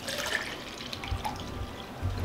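Water pouring into a shaker for a protein shake, a steady close splashing stream running for a couple of seconds with no talking.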